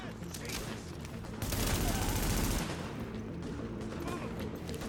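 Rifle fire in the third-person shooter The Division, a dense burst of shots that swells loudest for about a second in the middle, with softer gunfire and game noise continuing before and after.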